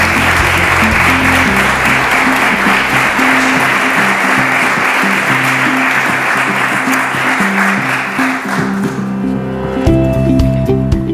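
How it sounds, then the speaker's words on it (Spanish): Sustained applause from an audience at a municipal student awards ceremony in Grazalema, dense clapping filling the room for about nine seconds before thinning out, with faint music underneath. "Un aplauso para él."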